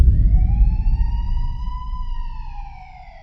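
A police siren wails loud and close, its rising and falling tone sustained over a low rumble of traffic or engine noise, slowly fading toward the end.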